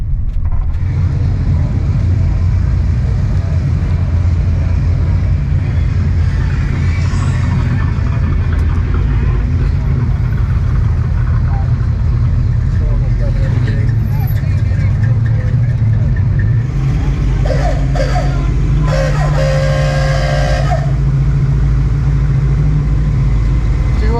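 A car engine revs hard during a burnout at a car show, a loud continuous roar with rising surges over a crowd's background chatter and rumble throughout.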